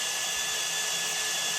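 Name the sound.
power drill drilling out a bolt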